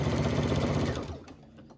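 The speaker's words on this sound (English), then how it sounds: "I'm going to sew this." Sewing machine stitching quilt binding, a loud, close, rapid mechanical whirr that runs steadily and then winds down and stops near the end.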